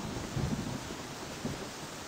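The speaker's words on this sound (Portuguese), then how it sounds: "Tá uma chuva, mano." Steady rain hisses across a scene in the life-simulator game Denizen, with a low rumble under the wash of noise and a couple of soft thuds.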